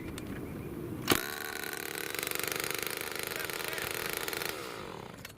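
A small Homelite XL chainsaw starts with a sharp pull and then runs at a loud, close, buzzing rev for about three seconds before dropping back toward idle.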